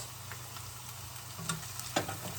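Spring onion frying in a pan for smoky jollof rice, a continuous close sizzle and crackle with a couple of brief louder pops near the end, steady throughout and with no voices.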